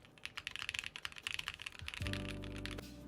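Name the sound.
typing on a computer keyboard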